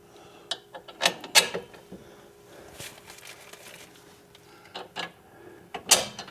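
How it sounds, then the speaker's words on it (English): Metallic clicks and ratcheting taps while a front ball joint is bolted onto a 2006 Pontiac Torrent, sparse and close, with short clanks at irregular intervals over quiet workshop background. "let's get this ball joint bolted on here"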